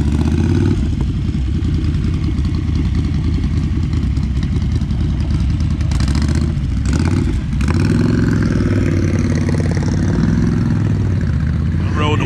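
A motorcycle called the 109, ridden on the Tail of the Dragon road, gives a loud, steady engine drone with a brief dip in the middle, and a voice speaks over it.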